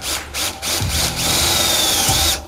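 Power drill driving umbrella-head screws into a prefabricated wall panel, a close, loud whirring burst with a couple of brief stops and restarts, the motor pitch dipping and rising as the screw bites.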